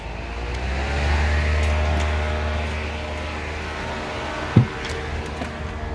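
A homemade whole house fan runs at high speed, giving a steady low motor hum with airy whoosh, close and constant, with one short knock partway through.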